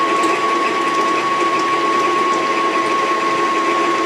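An electric mixer whips hot chocolate cookie dough with a steady, loud whirring hum and a constant motor whine, running without pause and close up.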